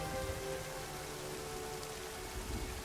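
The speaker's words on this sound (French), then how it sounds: "il pleut des cordes" Heavy rain pouring steadily outdoors, a dense continuous hiss of drops with no voices, fairly faint and even throughout.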